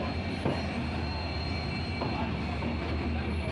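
Mandovi Express rolling into platform 3 at Ratnagiri station, a low rumbling train interior with steady wheel noise, faint squealing tones and a few soft clanks, heard from inside the carriage with no talk.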